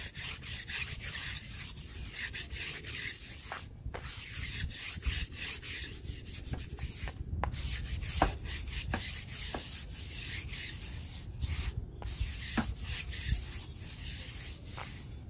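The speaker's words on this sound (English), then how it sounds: "Nice short bristle brush for the tire." A short bristle brush scrubs a car tire on a Honda Accord Sport in steady, close rubbing strokes with a few sharp scraping accents, continuous and alone without any voices.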